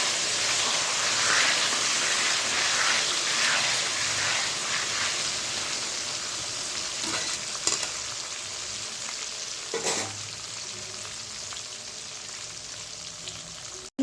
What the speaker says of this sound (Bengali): আলুগুলোকে ভেজে নেব লাল লাল ভেজে নিতে হবে